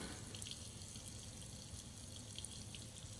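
Water runs steadily from a bathroom tap while someone washes their hands, a faint continuous hiss with a few soft splashes, muffled and distant.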